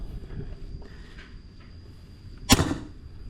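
A single sharp, loud crack of an unsilenced PCP air rifle shot, a fish-shooting gun, cuts through quiet room tone, with a brief tail after.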